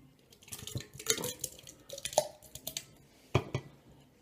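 Thick homemade jam is poured and scraped into a blender, giving quiet wet squelches and soft plops along with several sharp clinks of a utensil against the container, uneven and close.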